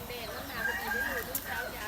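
Chickens and a rooster on a duck and chicken farm cluck and call over a noisy outdoor background, with a short crow-like cry, the birds fairly close and moderately loud.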